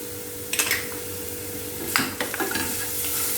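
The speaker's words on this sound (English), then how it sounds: "Now give this a nice mix." Onion with grated ginger and chillies gets stirred in a pan: two clusters of metal spoon scrapes and clinks against the pan rise over a low, steady sizzle and a faint hum, with no voices.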